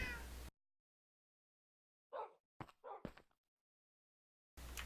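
A Minecraft cat meows in short separate calls out of silence, three or four brief mews in close succession, with bursts of game sound at the start and end.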